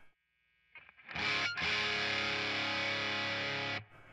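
Electric guitar played through a stock Rat distortion pedal, a loud, thick, saturated sustained chord with a brief break near the start, then ringing steadily before cutting off.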